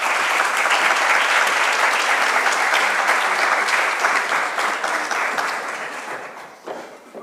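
Sustained applause from an audience at a university academic-year opening ceremony in Uruguay, steady and dense for several seconds before thinning and fading toward the end, with no voices over it.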